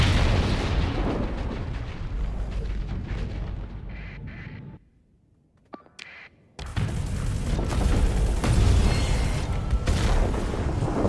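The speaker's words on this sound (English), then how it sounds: "Missile away!" A missile launches and explosions follow in the space combat game Starsector, loud booming blasts and rumbling bursts. A brief near-silent gap with a few pops breaks the barrage before heavy detonations resume.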